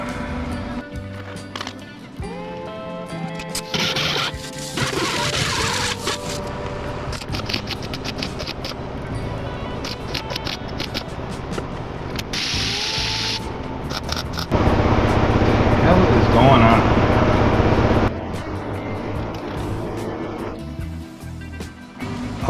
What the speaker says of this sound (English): now it's welding good